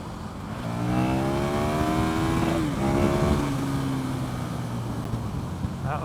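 A 2014 KTM 1290 Super Duke R motorcycle being ridden, its engine droning steadily and rising and falling in pitch through gear changes, with heavy wind rush throughout and no talking.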